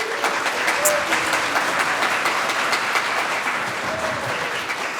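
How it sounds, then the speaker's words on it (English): Loud, sustained applause with whoops and cheering from a conference audience at a Python developer event in the UK, a dense continuous roar lasting the whole stretch. "we'll do our whooping and cheering and our rounds of applause for all these people that helped make this happen"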